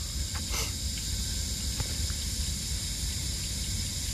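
Tap water runs steadily from a faucet to rinse a camera lens, giving a continuous broadband hiss with a few faint clicks, fairly close and alone without talk.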